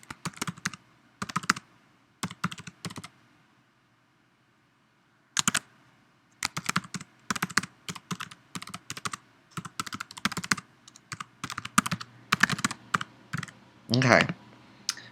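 Password being typed on a computer keyboard during a Mac OS software install, with bursts of quick, close key clicks separated by pauses and a long silent gap midway.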